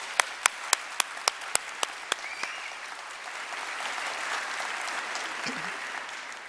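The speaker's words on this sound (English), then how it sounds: "Please, let's give them a round of applause." A graduation ceremony audience claps; a few sharp, distinct claps come first, then fuller, softer applause spreads through the hall and settles into a steady wash.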